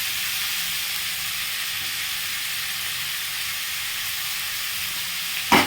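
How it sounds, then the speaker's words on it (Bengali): Chicken pieces coated in spice paste fry in a pan for chicken kasha, giving an even, continuous hiss of sizzling oil at moderate level, with a small knock right at the end. "মাংসটা ভালোভাবে একটু ভাজা হয়ে গেছে"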